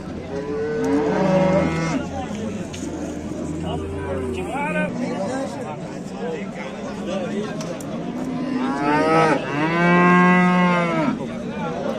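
Cattle low repeatedly, long drawn-out moos near and loud, with people chattering in the background between and under the calls.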